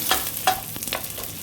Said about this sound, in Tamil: நான் வந்து வெங்காயம் போட்டு வதக்கிட்டுருக்கேன். வெங்காயம், இஞ்சி பூண்டு பேஸ்ட்டும் போட்டு